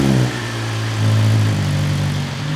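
A 2025 BMW S1000RR sport motorcycle with stock exhaust drones steadily at close range, its pitch rising slightly with revs and then settling back in a low, rough rumble.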